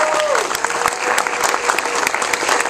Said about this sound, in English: I think they should get a round of applause